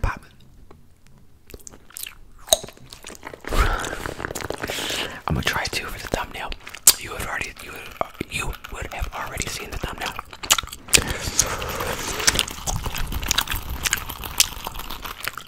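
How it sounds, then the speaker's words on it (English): Gum being chewed close to the mic in a fast, aggressive ASMR session, with dense wet smacks and crunchy mouth clicks running continuously, interspersed with soft whispering and hand sounds. "I don't know how people chew gum, because it's already lost its flavor."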